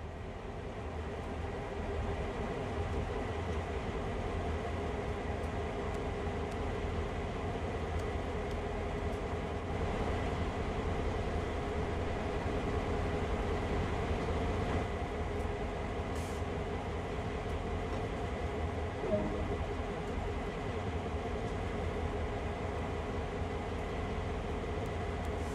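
A CN GP38-2 diesel locomotive in Train Sim World 2020 on the Oakville Subdivision rumbles steadily for a long stretch, a constant droning engine and rolling rail noise at even loudness without talk.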